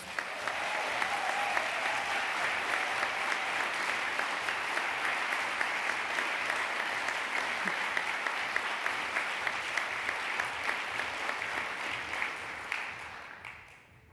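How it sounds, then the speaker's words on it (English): Sustained applause from an audience at a university research and innovation awards ceremony, even and dense clapping that carries on for many seconds before fading out at the end. "Please give them a round of applause."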